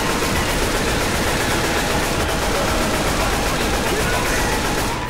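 Sustained, dense gunfire from the zombie shooter game Left 4 Dead 2 fires continuously at a loud, steady level, with rapid overlapping shots and no pauses.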